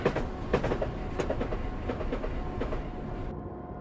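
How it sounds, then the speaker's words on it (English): A train in Train Simulator 2015 brakes toward a stop, its wheels giving a rhythmic clickety-clack that slows, with rolling rumble and a faint steady tone before the sound cuts out. "See how well this train stops."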